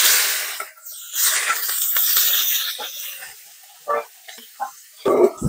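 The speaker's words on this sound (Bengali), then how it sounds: "আলুগুলো ভেজে নেব।" Finely chopped potatoes fry in hot oil in a wok, giving a loud hissing sizzle that dies down, followed by intermittent scraping stirs, close and with no talking.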